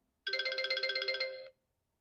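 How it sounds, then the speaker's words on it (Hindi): A phone rings with a short electronic ringtone, a rapid run of bright pulsing chimes lasting about a second before it cuts off into silence. "ये तो डॉक्टर मैडम का फोन है"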